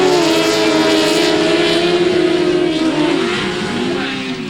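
Grasstrack sidecar racing engines roar together at a race start, a loud, dense, rising drone of several machines that gradually thins as they pull away.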